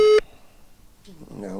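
A single short ringing tone sounds at the start of a phone call, followed by a pause and then people talking.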